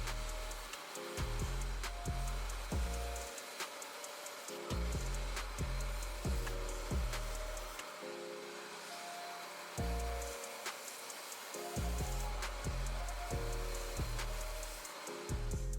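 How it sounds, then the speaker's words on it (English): Upholstery vacuum drawing excess water out of vintage sneaker insoles, a continuous loud suction hiss with rhythmic bursts of lower gurgling pulses as the nozzle passes over the wet insoles. "I'm going to use this upholstery vacuum to remove any excess water that's on the"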